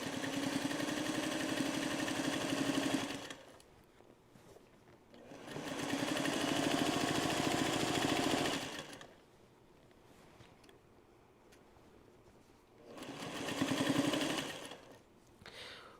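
A sewing machine stitches binding onto a Trellis Garden quilt in three sustained runs of steady whirring, separated by quiet pauses, fairly soft and close.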